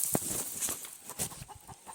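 Chickens on a small home farm give soft, irregular clucks and short calls in a quiet outdoor setting, faint and intermittent over a steady high background hiss.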